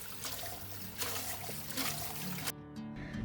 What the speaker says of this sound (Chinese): 去好骨的凤爪，我们再次冲水，就是把那些黏黏的那些胶质都把它冲洗干净。